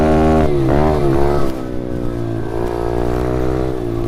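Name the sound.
pit bike engine accelerating through the gears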